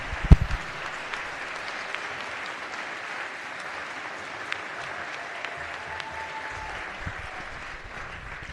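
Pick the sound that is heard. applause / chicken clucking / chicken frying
applause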